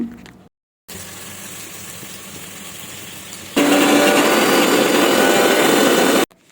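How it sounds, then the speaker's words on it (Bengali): An electric grinder turning garlic and ginger into paste, a short burst followed by a pause, then a steady loud whirring drone that runs several seconds before cutting off abruptly. "এটা রসুন আর আদাটাকে কিন্তু আমি এখন পেস্ট করব"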